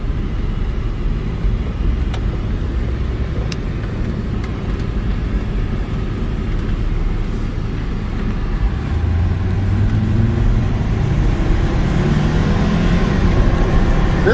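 A 2005 Volvo S60 2.5T with its light-pressure turbocharged five-cylinder engine drives along, giving a steady, loud low rumble of engine and road noise from inside the cabin that swells slightly toward the end.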